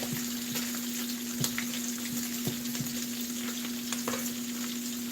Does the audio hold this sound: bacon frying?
yes